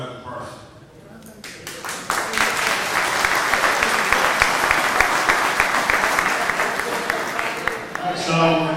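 Audience applause at a community meeting for a police commissioner, a dense burst of clapping from a crowd that swells after a few seconds and holds steady, with a voice heard before it begins and another as it fades.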